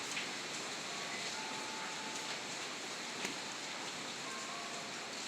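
Steady rain falls outdoors in the early morning, a constant hiss of drops that holds at an even, moderate level throughout with no voices.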